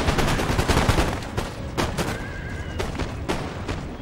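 Musket volley fire in Empire: Total War, a dense crackle of repeated gunshots through a busy battle din with sharp bursts spaced across the clip and a horse whinny faintly mixed in.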